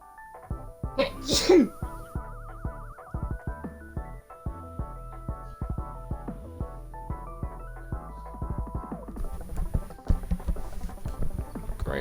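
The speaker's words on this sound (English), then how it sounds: "I'm gonna sneeze" One sharp, close sneeze bursts out over game music playing in the background.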